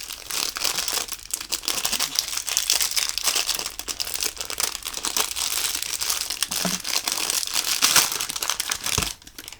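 Paper wrapping around a Japanese squishy package crinkles and tears continuously up close, a steady dense rustle of handling with brief louder crunches.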